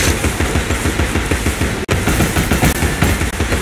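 Rapid gunfire in the video game Alice: Madness Returns: a loud, dense, continuous stream of fast repeating shots that briefly cuts out once before resuming and running on to the end.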